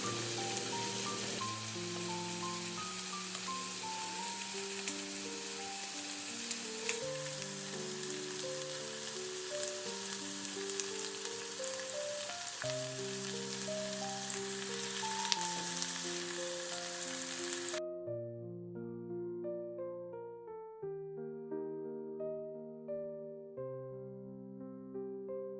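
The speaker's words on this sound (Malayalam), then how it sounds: "ഇനി അടപ്പ് മാറ്റിയിട്ട് ഒരു മീഡിയം ഫ്ലെയിമിൽ വെച്ചിട്ട് നമുക്ക് തുറന്ന് വെച്ച് കുക്ക് ചെയ്യാം" Potato stir-fry (upperi) fries uncovered in a pan over a medium flame, a steady close sizzle crackling under background music before cutting out near the end.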